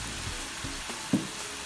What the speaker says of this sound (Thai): คนเข้ากันเนาะ